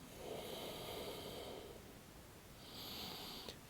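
During a vinyasa yoga pose, slow breathing sounds softly: one long, airy exhale, a pause, then another breath, close and quiet.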